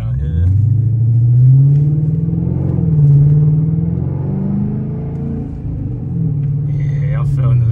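A Dodge Charger R/T with its mid muffler deleted gives a deep, loud exhaust rumble that rises and falls with throttle, swelling twice while driving nearby, with no talk over it.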